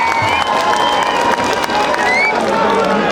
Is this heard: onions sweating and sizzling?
no